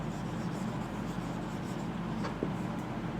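Chalk or marker scratches across a classroom board in short, soft strokes during a chemistry lesson, faint and close with no talking.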